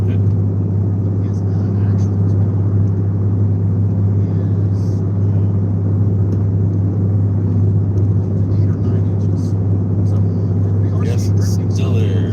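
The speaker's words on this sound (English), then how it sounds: "You know, hear this truck?" A truck drives along the I-10 highway in wild weather, heard from inside a vehicle as a steady, loud low rumble of engine and road noise that runs continuously without breaks.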